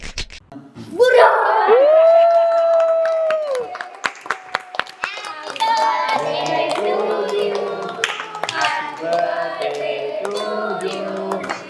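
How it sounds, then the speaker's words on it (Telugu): At a birthday gathering, a sustained sung or shouted voice gives way to a flurry of sharp snaps and claps from a group, crisp and close, with excited voices and chatter running underneath. "ఈ చిటికలేంటి చప్పట్లు రెగ్యులర్, చిటికలు వెరైటీ"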